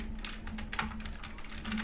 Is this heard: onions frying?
no